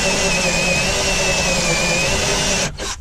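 A spot weld cutter in a drill bores into a car body spot weld, giving a loud, steady high-pitched whine that stops abruptly near the end.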